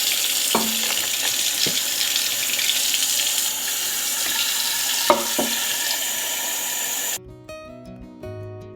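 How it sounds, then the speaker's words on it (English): Really hot water pours steadily into a bucket, a continuous hissing splash with a few sharp knocks and clinks, before the sound cuts away to quiet tones at the end. "put a gallon of really, really hot water in my bucket"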